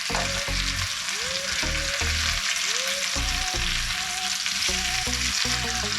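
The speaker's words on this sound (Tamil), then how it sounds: "இப்போ இதை மற்ற பக்கமும் 2 நிமிஷம் பொரிய வைப்போம்." Chicken fries in a pan with a loud, constant close sizzle, broken by scraping and stirring knocks as pieces are turned, and no talking.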